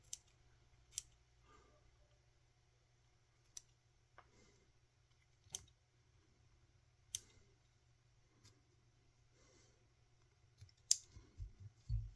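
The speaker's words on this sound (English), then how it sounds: "Just come in here and just trim out this hair." Scissors trimming elk hair on a caddis fly, sharp isolated snips and clicks spaced a second or two apart, close and quiet against a low hum, clustering faster near the end.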